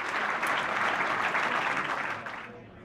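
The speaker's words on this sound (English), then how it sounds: "And the crowd goes wild with Wright's performance." Spectators at an ISSF Rifle and Pistol World Cup shooting event in Milan cheer and clap in a loud, dense burst that stays strong for over two seconds and then fades out at the end.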